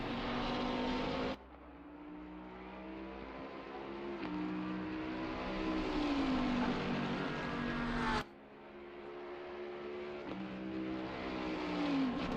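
Bentley race car engine heard onboard at the Nurburgring in a racing game, a continuous droning roar that climbs in pitch through the gears, with two sharp drops at upshifts, steady and close.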